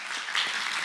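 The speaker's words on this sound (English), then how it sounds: "Can you please applaud a lot harder?" An audience at the end of a Kubernetes conference talk claps in a brief, steady burst of dense applause.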